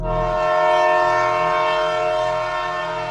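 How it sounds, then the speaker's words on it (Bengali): An old, rusty train's whistle blares as a loud, steady harmonic tone on a silent late-night station platform, sounding for about three seconds with no voices. "হঠাৎ দূরে থেকে একটা শব্দ শোনা গেল, ট্রেনের হুইসেল।"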